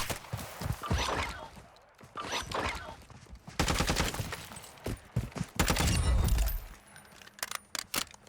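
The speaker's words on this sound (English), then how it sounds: "Let's use the sniper rifle, take some of these out too." Gunfire rings out in Call of Duty DMZ, with sniper rifle shots and bursts of other weapons crackling in clusters, punctuated by loud blasts and metallic clinks at close range.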